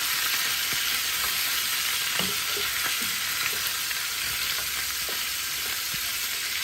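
Gizzards roasting in a hot pan, a steady close sizzle with scattered small pops and faint scraping, no voices.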